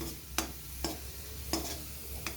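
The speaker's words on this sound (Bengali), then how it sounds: "দেখো বন্ধুরা, রসুনটা মোটামুটিভাবে ভাজা হয়ে এসছে।" Garlic frying in a wok for a jute leaf curry, a steady close sizzle broken by four sharp scraping stirs spaced roughly half a second apart, with no voices.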